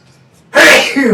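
A single loud, abrupt sneeze bursts out after a stretch of near silence, with a brief breathy tail.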